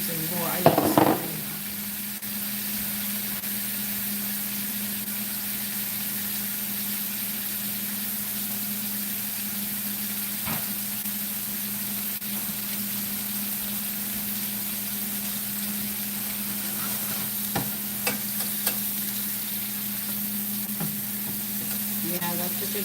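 Several chuck eye steaks sizzle in a pan as butter melts over them, a steady close frying hiss with a low hum underneath and a short clatter at the start, plus a few faint knocks later.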